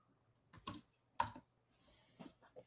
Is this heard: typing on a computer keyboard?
yes